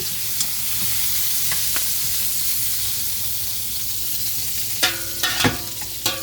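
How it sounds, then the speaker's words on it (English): Steak searing in a roaster, a constant close hiss of hot fat with a couple of louder metallic scrapes and clanks toward the end. "So I'm going to put this one in here so it can get a nice brown."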